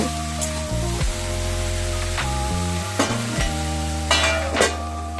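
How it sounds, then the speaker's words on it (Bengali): Vegetables seasoned with turmeric and salt fry and sizzle steadily in a pan on a gas stove, with a constant hiss broken by a few sharp scrapes and clinks of stirring close by. "ভালো করে নেড়ে চেড়ে কিছুক্ষণ এটাকে ভেজে নেব বা সেদ্ধ করে নেব"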